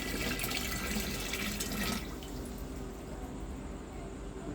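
AB Mix nutrient solution part B poured into a drum as a steady, loud liquid gush and splash, heavier for the first two seconds and then settling into a softer continuous trickle and hiss.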